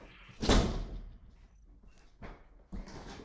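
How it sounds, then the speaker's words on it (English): An indoor door swings shut with a solid thud in a quiet room, a single close impact followed by a softer knock or latch a couple of seconds later. "I'll just shut this door."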